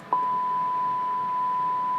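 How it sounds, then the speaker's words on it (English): A steady pure test tone from a signal generator, fed into a simplex radio repeater, sits at a constant level over faint background hiss after a brief click at the start, with no voices. "you can hear there's our 100 hertz tone"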